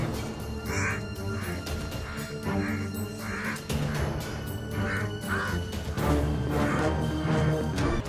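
Crow caws in repeated bursts, roughly one per second, as a hawk attacks and plucks its feathers, loud and close over a dense, busy background of layered sound.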